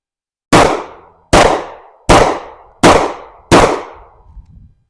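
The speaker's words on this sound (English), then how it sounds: "First, I'm going to fire 5 rounds of PMC Bronze 170 grain jacketed" Smith & Wesson M&P M2.0 10mm pistol firing PMC Bronze 170 grain rounds at a range, five loud, sharp shots evenly spaced about a second apart, each ringing out with a short decaying echo.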